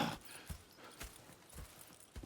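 Horse hooves clip-clopping in Red Dead Redemption 2, a few irregular thuds spaced about half a second apart, moderately quiet and alone without talk.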